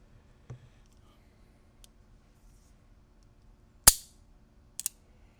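An 1889 Italian Bodeo revolver dry-fired, giving one sharp metallic snap of the hammer midway, followed by a couple of lighter clicks, with faint softer clicks earlier in a quiet room.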